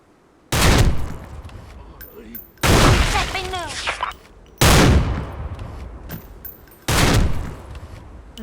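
Four heavy Barrett Siege sniper rifle shots ring out in Special Force 2, spaced roughly two seconds apart, each a loud sharp crack with a long echoing tail, while a voice talks faintly between them.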